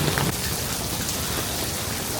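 Heavy rain pouring down outdoors in Vigan, a dense, steady hiss of drops hitting surfaces, loud and unbroken for the whole stretch, with no talk over it.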